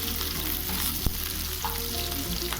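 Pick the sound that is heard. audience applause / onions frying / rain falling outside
onions frying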